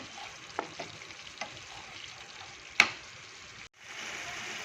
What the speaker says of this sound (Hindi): तो ये अच्छे से अभी भून लेती हूँ।